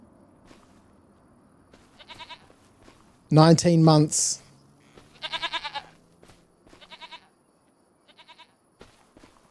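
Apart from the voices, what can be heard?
goats bleating in Farming Simulator 25 video game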